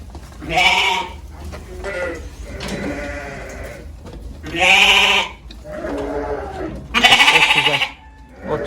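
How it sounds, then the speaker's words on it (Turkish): Several lambs bleat one after another, loud and close, with short pauses between the cries. "bayağı bir kalabalık kuzu sürümüz var arkadaşlar"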